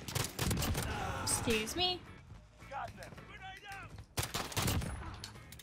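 Bursts of 1911 pistol gunfire in Call of Duty: Modern Warfare, a cluster of sharp shots early, a quieter stretch, then another loud burst near the end, with a voice speaking briefly among them.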